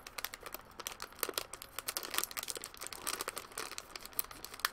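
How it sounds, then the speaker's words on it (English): Scissors snip and crinkle through plastic and cardboard packaging while a subscription box is cut open, giving a close, quiet run of rapid crackling cuts and rustles with no talking. "I'm going to cut this open here"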